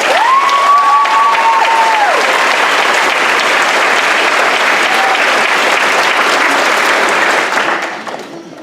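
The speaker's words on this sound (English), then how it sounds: "Round of applause for her and the other graduates." Sustained applause from a graduation ceremony audience fills the hall, dense and steady, with a few whistles near the start, fading out at the end.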